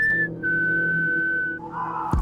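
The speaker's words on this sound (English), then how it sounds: "He decided to try using the death whistle" A death whistle blown once, a long piercing tone that holds steady and then drops into a rougher, breathy shriek, loud and close, with no voices.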